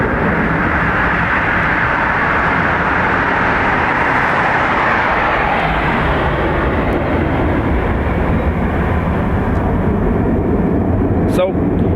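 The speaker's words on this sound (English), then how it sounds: "So, EI 953 and A330-200 off to Seattle." An Aer Lingus Airbus A330-200 jet taking off from Dublin Airport's runway 28 right, bound for Seattle: a loud, continuous engine roar that holds steady throughout and softens slightly in its upper hiss midway.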